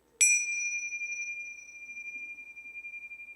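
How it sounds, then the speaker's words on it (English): Bells struck during a Unitarian worship service give one bright, clear strike, then a long ringing tone that slowly fades with a gentle pulsing shimmer in an otherwise quiet room. "I will once again strike these bells"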